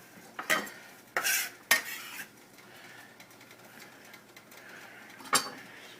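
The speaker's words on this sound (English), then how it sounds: "we're just going to stir this into the stew" A spoon stirring chopped flat leaf parsley into a simmering pork stew in a pot, a few sharp scraping clinks against the pan over a quiet, faint background.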